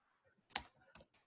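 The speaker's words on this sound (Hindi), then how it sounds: "टाइपिंग" Two or three sharp clicks of keys being pressed on a computer keyboard, close and crisp, with near silence around them.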